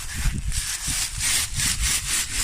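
Hand saw cutting through wood outdoors, a steady run of rhythmic back-and-forth rasping strokes, close and fairly loud, with no one talking.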